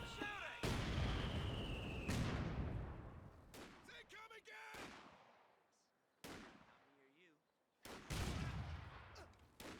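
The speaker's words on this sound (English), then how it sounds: "And does get a nice mortar hit there before retreating on back." Mortar shells from the Company of Heroes 2 game land in a series of heavy explosions, with dense rumbling blasts and sharp impacts that cut in and out across the battle, alongside a few quieter gaps.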